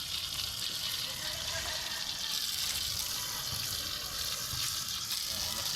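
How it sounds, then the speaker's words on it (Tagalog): Strong water gushing steadily from a garden hose outdoors, a broad continuous hiss and splash at close range, with voices talking faintly underneath. "Lakas ng tubig."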